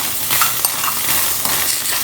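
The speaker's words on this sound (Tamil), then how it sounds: "நம்ம அந்த 1 ஸ்பூன் எண்ணெயை வந்து போட்டு நம்ம நல்லா வதக்கிடுங்க" Ingredients sautéing in a spoonful of oil for homemade paneer, a steady bright sizzle with light scraping stirs and soft clinks of a spoon against the pan, close and continuous.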